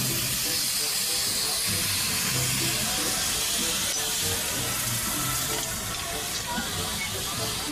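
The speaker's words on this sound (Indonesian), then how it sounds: "Kereta Thomas." Thomas the steam train releases a continuous hiss of steam, a steady rushing noise with faint low rumbles underneath, sustained at even loudness throughout.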